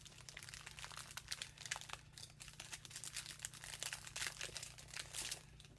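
Plastic packaging from a clothing haul crinkles and crackles close up, a continuous busy rustling with sharper crunchy bursts throughout, no talking.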